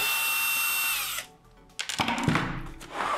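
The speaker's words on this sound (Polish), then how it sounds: "Aby zdjąć obudowę, odkręćcie wszystkie wkręty." A power drill whines steadily while backing out the casing screws of a Nivona coffee machine, then stops; after a short pause come clattering handling noises and brief bursts of the tool, all close by.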